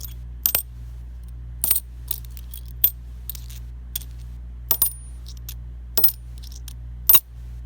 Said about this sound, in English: just from when I was putting the coins together, it sounded off.